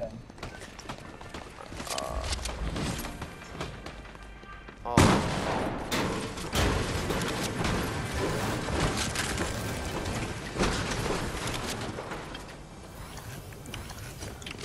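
Gunfire in the video game Fortnite, dense rapid shots and clattering bursts that grow loud partway through and continue steadily, with players' voices talking over them.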